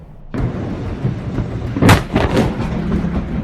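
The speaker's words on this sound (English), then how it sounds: "The explosion at the port of Tianjin in China in August 2015 was a devastating incident caused by a fire that broke out in a warehouse storing hazardous chemicals." A massive explosion at a chemical warehouse in the port of Tianjin, China, rumbles loudly and continuously, with heavy booming bursts and a strong blast near the middle.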